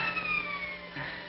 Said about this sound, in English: Sounds like police sirens. It is the police.